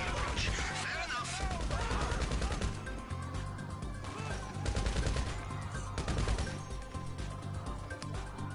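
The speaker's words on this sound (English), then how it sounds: "I deduce from the sound of gunfire" Rapid bursts of gunfire in GTA 5 crack and rattle repeatedly amid a dense, busy mix of crashes and background noise, fairly quiet overall.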